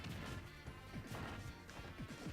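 A forward air spike lands in a fighting video game match, a loud, dense burst of crashing, thwacking hit sounds repeating in quick succession with game audio all around.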